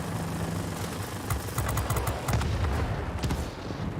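Aircraft guns on a P-40N Kittyhawk fighter in World of Warplanes fire in short rapid bursts over a steady engine drone, the staccato rattles clustering in the middle of the stretch.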